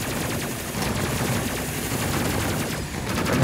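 Rapid automatic gunfire from a space combat game, a steady, loud stream of closely spaced shots rattling on without pause for the whole stretch, with no talking.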